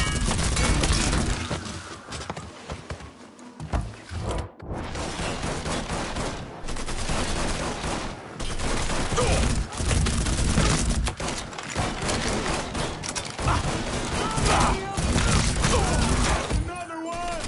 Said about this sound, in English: He's gunning us down.